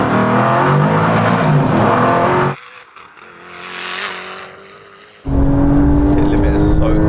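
A Koenigsegg Agera RST, a Porsche 911 Turbo S and a 950-horsepower tuned Audi TT RS race from a rolling start in second gear, a loud, close engine roar that cuts out briefly and then returns.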